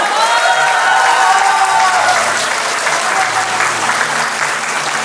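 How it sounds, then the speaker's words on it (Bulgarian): Audience applause at the Cake Art Bulgaria Awards 2023 as a large decorative display category winner is announced; dense, loud, steady clapping from a big crowd continues throughout. "Това е аплодисменти за Елизавета Никова."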